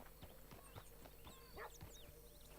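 Horse hooves clip-clop in Red Dead Redemption II, a quiet series of irregular hoofbeats at a slow walking pace, with faint chirping in the background.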